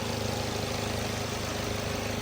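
Well-maintained Swift Dzire VXI engine idling with the bonnet open, a steady, even low hum and hiss that runs unbroken and fairly quiet, with no talk.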